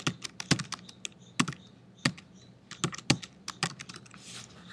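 Fingers type a new file name on a computer keyboard, an uneven run of sharp, close key clicks with short pauses and a few louder strikes, with no voice.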